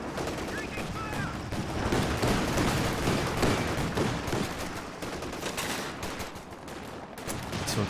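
Battlefield gunfire from the real-time strategy game Company of Heroes 2: dense, overlapping rifle and machine-gun bursts crackle continuously at moderate volume, with rumbling blasts mixed in.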